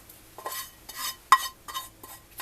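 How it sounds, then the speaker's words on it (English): Hot garlic and herbs scraped into a red bowl with a utensil, several short scraping strokes in a steady rhythm with one sharper clink, close and fairly quiet. "we're going to take our nice hot garlic and herbs, and we're just going to put it into our trusty red bowl"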